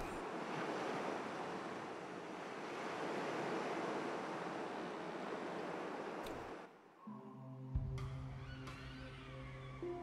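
Ocean waves in the Lost Sea of Paper Mario Color Splash, a broad rushing surf with wind that fills most of the stretch before cutting away to game music and chimes near the end.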